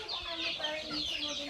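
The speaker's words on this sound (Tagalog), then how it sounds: "Tingnan nyo yung manok natin. Marami na siya." Chickens clucking in a village yard in the Philippines, a short, faint stretch of soft bird calls over a quiet background.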